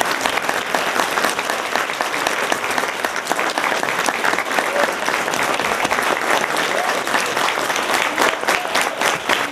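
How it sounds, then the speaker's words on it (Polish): Sustained applause from an audience at a theatre festival for disabled performers, dense steady clapping close and loud throughout. "wielkie brawa"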